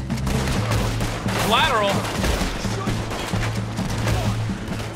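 Gunshots ring out in the Western video game Red Dead Redemption 2. Several sharp reports are scattered through a busy in-game mix, with a voice talking over them.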